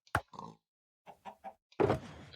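Minecraft chickens give a few short, clipped clucks spaced apart, with a louder, fuller cluck closing the sequence, clear and isolated.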